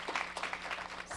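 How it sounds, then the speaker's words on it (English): Brief burst of audience clapping at a Black History Month reception in a Manhattan room, a short uneven patter of many hands at moderate volume. "Yes, we should clap."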